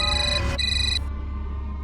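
A phone ringtone chirps in a home kitchen, a bright electronic melody of short repeating tones that cuts off after about a second, leaving low room hum.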